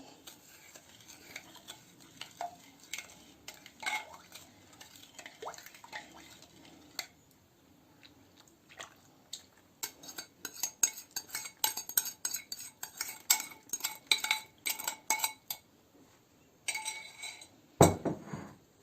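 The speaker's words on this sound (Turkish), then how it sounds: "Şekeri erittiğimiz sütümü de katıyorum." Sweetened milk with dissolved sugar is poured into kömbe dough for Hatay holiday pastries, heard as faint liquid trickles and soft stirring with clinks of utensils against a bowl, rising toward busier mixing sounds near the end.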